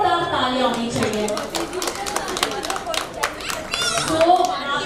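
Guests at a traditional Indian engagement ceremony clap for the couple; scattered sharp claps ring out under lively talk and children's voices.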